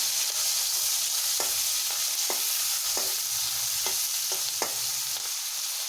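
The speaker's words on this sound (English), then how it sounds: "Fry it slightly, then add well-boiled fried cassava." Boiled cassava with ghee and coriander fries in a pan with a steady hiss, broken by regular knocks and scrapes of a spoon stirring at intervals, and nobody speaks.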